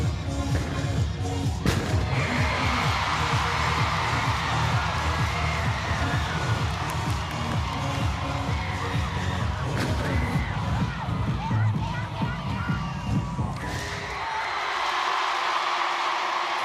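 Gymnastics arena crowd on its feet at an LSU at Florida meet, loud sustained cheering, whooping and applause filling the space, with rhythmic clapping throughout before the roar drops off near the end.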